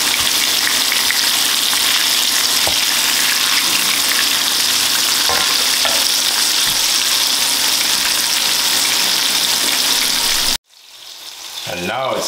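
Salmon pieces fry loudly in a hot pan, a dense, steady close sizzle with occasional knocks as they are turned, cutting off abruptly near the end into a quieter hiss.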